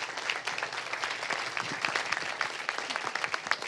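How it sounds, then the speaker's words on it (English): An audience at a medical grand rounds presentation breaks into applause, a dense, steady patter of many hands clapping, moderately close, continuing for several seconds. "Lori, can we give them a round of applause, please?"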